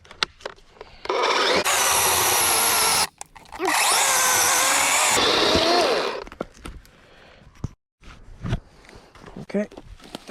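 A DeWalt 20V cordless chainsaw cuts through a log in two loud, steady bursts of a second or two each, with people talking in the quieter gaps between and after.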